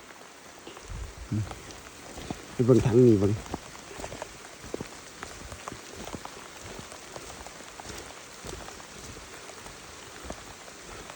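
Steady rain hisses down across a farm in the morning, continuous and even, while someone speaks briefly close by.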